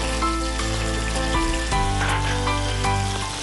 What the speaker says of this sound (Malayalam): ചൂടായി ഇതിലേക്ക് നമ്മൾ 1 ടീസ്പൂൺ കടുക്, ഇനി ചെറിയ ഉള്ളി ഒരു 5 or 6 നീളത്തിന് കനം കുറച്ച്